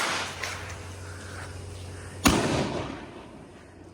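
One sharp firecracker burst cracks out midway, loud and close, followed by a decaying rumble over a constant background hum.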